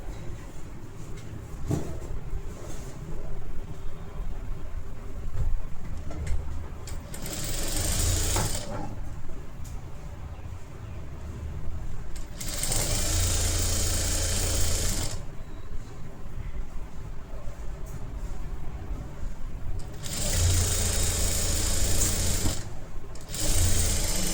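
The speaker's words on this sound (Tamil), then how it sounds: "ஃபோல்ட் பண்ணி ஒரு ஸ்டிச்சு ஸ்ட்ரெயிட்டாக ஸ்டிச் பண்ணிக்கோங்க" A sewing machine runs steadily, stitching a folded fabric strip straight for a blouse, in three long bursts with short pauses between, close and clear with no talk.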